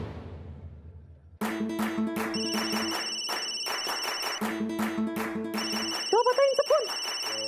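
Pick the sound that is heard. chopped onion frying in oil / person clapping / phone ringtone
phone ringtone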